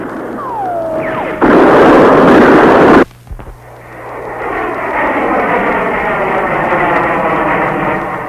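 Military support aircraft in a 1967 Vietnam air strike: a jet whines past, an explosion blasts loudly and cuts off abruptly, then engine roar builds again into a sustained, heavy drone.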